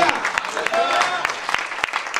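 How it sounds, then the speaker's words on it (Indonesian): Congregation clapping in a church service, a burst of close applause with a voice speaking over it, thinning into scattered sharp claps toward the end. "Kita berikan tepuk tangan yang lebih baik bagi Tuhan"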